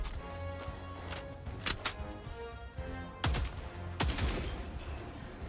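Bursts of gunfire from a video game weapon crack out over a busy game soundscape, with a few sharp shots spaced apart and heavier blasts near the end.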